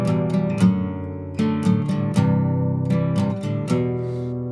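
Acoustic guitar strumming chords on only the four lower bass strings, part of a song, with steady rhythmic strums at close range and no talking.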